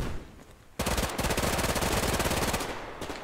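A Kriss Vector submachine gun fires in the video game Survarium, letting off a sustained rapid automatic burst of about two seconds, loud and close, followed by a brief extra shot.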